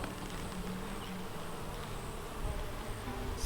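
Honey bees swarm and buzz steadily around an open farm hive as its frames are worked, a dense, continuous hum close by with no talk.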